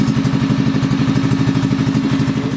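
A Harbor Freight Predator 6.5 hp engine with a rejetted carburetor runs close by, giving a loud, steady, rapidly pulsing thump with a rattly edge and no voices.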